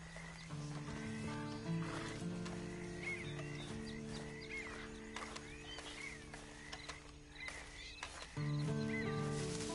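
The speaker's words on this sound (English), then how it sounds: "And you better get on this horse." A video game horse neighs and snorts over steady hoof clops, with a low sustained musical drone underneath throughout.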